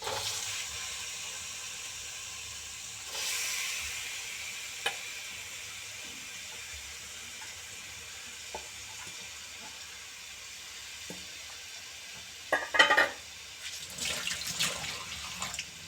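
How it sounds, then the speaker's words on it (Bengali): Chicken pieces dropped into a hot pan for a chicken and chana dal curry, giving a quiet, steady hiss of sizzling with a few soft clicks and a louder burst of crackling near the end. "এবারে চিকেনগুলো আমি দিয়ে দিচ্ছি"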